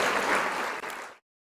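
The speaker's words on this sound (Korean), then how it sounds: "김도식 팀장님 모실 때 큰 박수로 부탁드리겠습니다." Loud applause from an audience welcoming a speaker, dense steady clapping that carries for over a second, then cuts off abruptly into silence.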